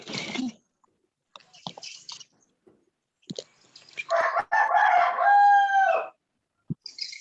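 A rooster crows loudly and close by in one long cock-a-doodle-doo, with a few scattered clucks and small noises before it and faint sounds after it in an otherwise quiet setting.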